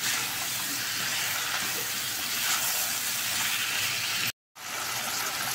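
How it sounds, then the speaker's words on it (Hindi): Chicken sizzling in a pan over a medium flame while cooking for a biryani, a steady broadband hiss that runs loud and continuous, broken by one brief silent gap near the end. "और मीडियम फ्लेम पर चिकन को 5 मिनट पकाएंगे।"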